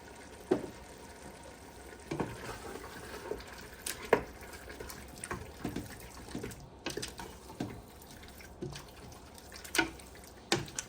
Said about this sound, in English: And we're gonna add our water.